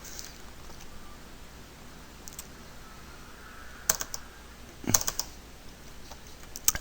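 A computer keyboard's spacebar and keys are pressed during a Minecraft session, heard as a few sharp, close clicks clustered near the end over a faint steady room hiss.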